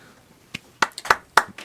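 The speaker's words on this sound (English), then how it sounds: "So we can't just have golf claps." Sparse, polite golf claps from a few studio guests, five or six separate claps spaced irregularly, close and crisp against a quiet room.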